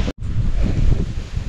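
Strong wind buffets the microphone in heavy, continuous gusts with a low rumble, after a brief dropout at the start.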